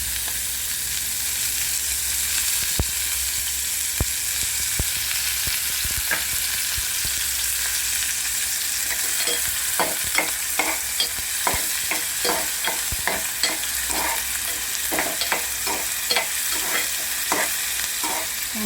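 Sandga sizzles in hot oil in a pan, a constant hiss running throughout, with close stirring scrapes that start sparse and turn into quick, regular strokes toward the end. No one speaks.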